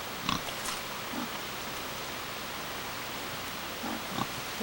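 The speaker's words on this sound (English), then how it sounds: "And here are my pigs. They're having a little corn." Pigs on a Vermont farm feed on corn, with a few short grunts and snorts rising over a steady hiss of outdoor ambience or running water.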